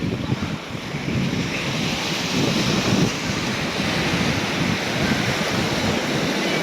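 Ocean waves wash continuously onto a beach, a loud, rolling surf roar mixed with gusty wind buffeting the microphone, heard up close with no clear voices.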